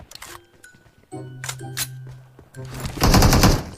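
Gunfire in PUBG Mobile, scattered sharp shots early, then a loud dense automatic burst near the end, with a faint voice in the background.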